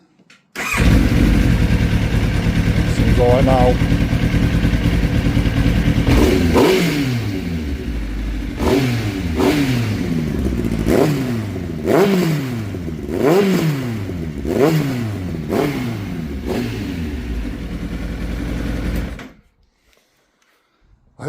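An old Kawasaki ZX9R motorcycle with a baffle fitted, recently out of storage, cranks and fires, settles into a loud idle, then gets repeated sharp revs that rise and fall in a steady rhythm before cutting off; a brief voice is heard.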